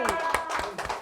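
Church congregation clapping together at the close of a Christmas Day worship service, a few loud hand claps in uneven rhythm with voices mixed in.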